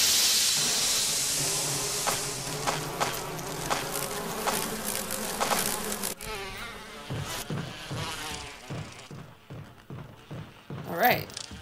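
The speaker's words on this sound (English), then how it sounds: "Guess it'll probably get rid of all the bees." A swarm of bees buzzes loudly in the video game Resident Evil HD Remaster, a dense droning hum that gradually thins and fades, with a voice talking over the later part.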